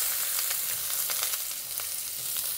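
Thumb-sized ginger slices and onion wedges stir-frying in hot oil for a Chinese spring onion ginger fish dish, with a close, even sizzle and light spatula scrapes, no talking.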